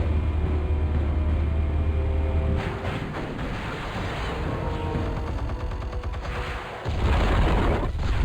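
A deep explosion booms in the Batman Telltale game, a heavy low rumble filling the opening seconds, then a noisy crackling aftermath, with a second loud low blast near the end.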